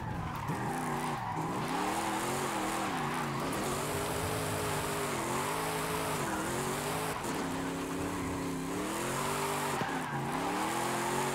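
Muscle wagon on sports tires sliding through corners in Forza Horizon 5, a continuous loud tire squeal over a wavering supercharged engine note that rises and falls with each slide.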